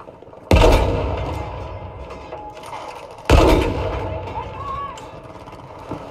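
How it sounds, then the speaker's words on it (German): A large cannon fires twice in Battlefield 5, each shot a sharp loud boom that trails off into a rumbling decay, about three seconds apart, with someone talking quietly between them. "Was ist das eigentlich hier? Eine Riesenkanone oder was?"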